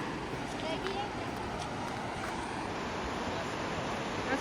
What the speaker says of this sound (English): That's a mini waterfall.